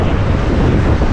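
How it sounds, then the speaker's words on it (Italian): Strong wind roars and buffets across the microphone while cycling a road from Reggio Calabria toward Taranto, a loud, continuous rumbling whoosh with no voices. "Va molto vento"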